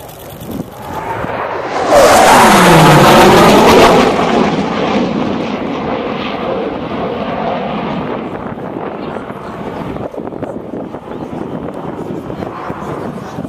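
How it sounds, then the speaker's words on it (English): F/A-18C Hornet jet at an airshow accelerating toward the speed of sound, a loud roaring rush that swells and sweeps downward in pitch as it passes, then a long rumbling wash of engine noise with wind buffeting the microphone. "the A-18 is accelerating to nearly the speed of sound"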